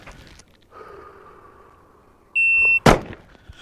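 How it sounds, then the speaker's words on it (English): Shot timer beep followed by a pistol shot on a range: a short steady electronic tone, then a single sharp, loud crack a moment later, both close, with no talking. "On the beep, I'm simply gonna fire."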